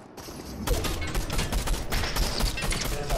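A rapid volley of gunfire crackles in a Fortnite Zero Build squads match, a dense stream of overlapping shots that runs steadily for about three seconds.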